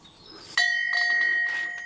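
A bell at the entrance to a pilgrim site between two leaning granite boulders in Sintra National Park, Portugal, is struck and rings with a clear sustained tone, a second stroke following as the first still hangs in the air.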